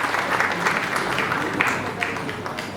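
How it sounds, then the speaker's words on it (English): A crowd at a live musical evening with singers on stage claps steadily, a full, even wash of applause that holds for the whole stretch without talk over it. "huge round of applause, please"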